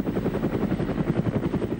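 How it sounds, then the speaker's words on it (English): Police helicopter flying overhead above a motorway chase, a steady close rotor thump with a fast regular chop throughout, loud and alone. "he seems to have forgotten the chopper shadowing his every move from the air"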